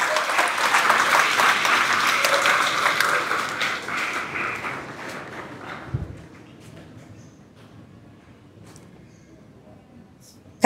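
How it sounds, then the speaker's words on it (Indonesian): Crowd of students applauding new students at a school opening ceremony, a loud burst of clapping that gradually thins and fades to near silence over about ten seconds. "Tepuk tangan buat siswa baru."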